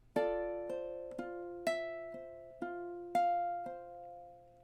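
Bright plucked ukulele chords strummed in a steady rhythm, about eight strums with ringing decay, played alone and fairly quietly.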